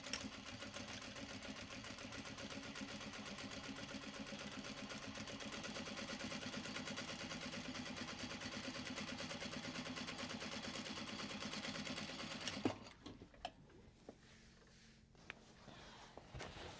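Steady, continuous whirring of a sewing machine running close for about twelve seconds, then stopping and leaving quieter handling clatter and faint room noise.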